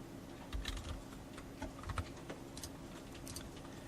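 Quiet, irregular clicking of typing on a computer keyboard while entering labels into an Excel spreadsheet, with short bursts of keystrokes over a faint background hum.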